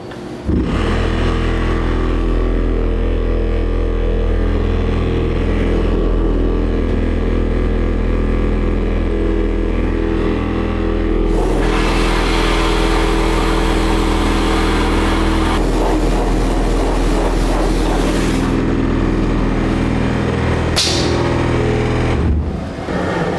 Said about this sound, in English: now all the exhaust is coming out of the sandblaster